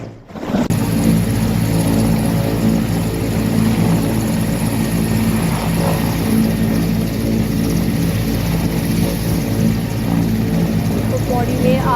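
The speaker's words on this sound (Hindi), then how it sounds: "आज वायुसेना के Mi-17 हेलीकॉप्टर से आग बुझाने की कोशिश की जा रही है।" Loud, continuous rotor and engine roar of an Air Force Mi-17 helicopter fighting a forest fire in Uttarakhand, steady throughout with a constant droning hum and no break.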